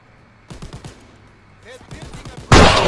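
Gunfire in the World War II shooter Call of Duty: WW2 cracks in rapid bursts. Sniper fire and a loud blast close the clip, with a voice talking between the shots.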